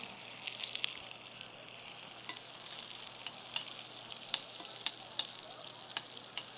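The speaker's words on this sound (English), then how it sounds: "I'm going to add the onions. Let it saute" Onions saute in oil in a pan for a meat curry, producing a continuous close sizzle dotted with sharp little pops and crackles at irregular intervals.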